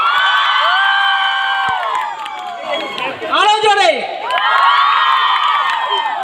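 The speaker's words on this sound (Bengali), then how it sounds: "জোরে হাততালি হয়ে যাক" A women's college audience cheers and screams for the actor John as he is welcomed on stage, shrill whoops swelling and dipping, with a voice briefly urging them on.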